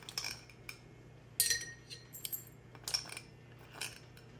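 Teaspoon clinking against glass pickle jars while granules are portioned into each one: a few sharp, light metallic clinks scattered over about four seconds, faint and close, with no talk.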